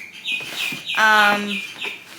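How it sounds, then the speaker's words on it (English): Birds chirp outside in a steady run of bright, overlapping calls, with one longer tonal call standing out in the middle, close and fairly loud. "Apologies for the birds."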